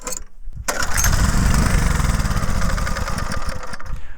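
A homemade tractor's engine, run on choke, cranks briefly, then catches and runs loud and rough for about three seconds before sputtering and fading out.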